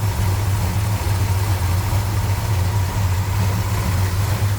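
A 1970 Chevrolet Chevelle SS tribute with a 454 V8, four-barrel carburetor and MSD ignition idles steadily, giving a low, even rumble that holds without revving from start to finish.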